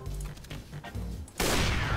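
An AWP sniper rifle shot in CS:GO fires with a sudden loud blast that keeps roaring to the end, after a stretch of quieter in-game clatter and action noise.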